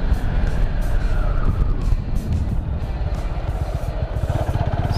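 A motorcycle engine braking in second gear during an intermediate slalom riding lesson, a steady low rumble of engine and road noise that stays loud and close throughout, with a faint rhythmic pulsing beneath.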